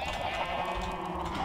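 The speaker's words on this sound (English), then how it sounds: "Sheep." Sheep bleating in Minecraft, a steady pixel-game farm animal call sustained over a continuous ambient background with no talk.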